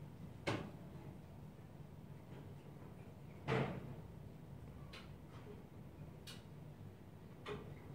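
A monkey knocks and bangs close by a room on a morning in Ubud, Bali: a few sharp, isolated knocks spaced seconds apart, one louder than the rest, over a steady quiet background.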